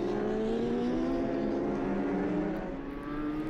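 BMW superbike racing in the French superbike championship at Nogaro, crossing the finish line: a high engine whine holding steady then easing slightly as it passes, steady and moderately distant.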